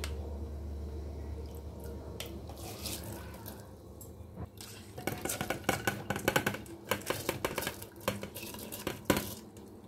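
Soaked rice tipped into a pot of water, a soft watery pour followed by a run of wet splashes and stirring clatter against the pot, with no talk.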